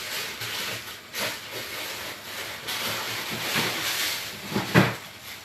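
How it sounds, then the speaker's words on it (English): Steady hiss of steam rising from a pan of mince chicken and lamb keema curry with peas, a continuous broadband wash with a few soft clicks and one brief bump near the end, close and moderately loud. "Steaming away."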